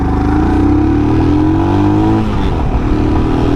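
A Royal Enfield Himalayan BS6 motorcycle in first gear pulls away with a loud, close single-cylinder drone whose pitch climbs steadily as the engine revs up, then levels off near the end.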